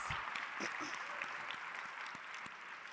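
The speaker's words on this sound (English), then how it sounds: "Give it a round of applause." Conference audience applause at a leadership summit, a steady wash of many hands clapping heard at a moderate distance, with faint voices mixed in underneath.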